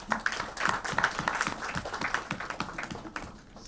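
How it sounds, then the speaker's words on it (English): Scattered audience clapping for panelists at an International Women's Day 2020 event, a modest number of individual claps heard fairly close, thinning out toward the end. "And a huge round of applause for our panelists."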